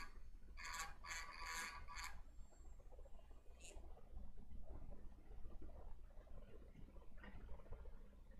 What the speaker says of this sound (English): let me just grind a little bit here, and then we can fix it.